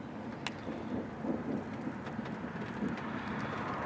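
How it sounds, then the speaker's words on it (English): Rain begins falling during a storm chase in Wisconsin, a dense, steady hiss of drops heard close by, with faint scattered taps and no voices. "And it is starting to rain now."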